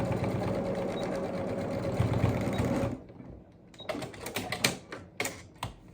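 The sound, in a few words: sewing machine stitching back and forth on headband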